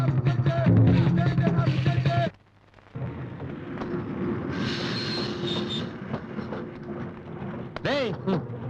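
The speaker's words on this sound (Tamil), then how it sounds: "ட்ரெயின் வந்துச்சுடா" A train arrives at a station, a loud rumble with a brief drop, then ongoing wheel noise and rattling, metallic squeals, and a short horn-like tone near the end, with busy background clamor.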